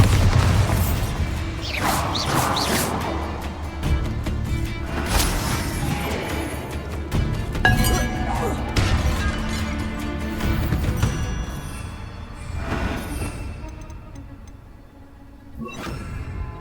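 Bombarda spell blasting a barricade in Hogwarts Legacy, a series of loud booming crashes and bursts with debris clatter and whooshes, close and dense, easing off toward the end.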